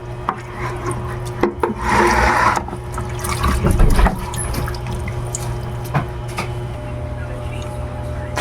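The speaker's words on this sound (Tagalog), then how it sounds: "prepare tayo ng sayuti. Ayan, hugasan muna natin." Chayote (sayote) being rinsed under a running kitchen tap, water splashing into the sink with a louder gush in the middle, soft rubbing and a few knocks at the start and end, nearby and without talk.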